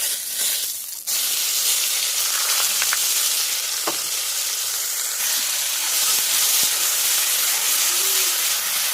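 Onion paste frying in hot oil with bay leaf, cardamom and cinnamon sizzles loudly and steadily, a bright continuous hiss with small crackles and occasional stirring, no voices.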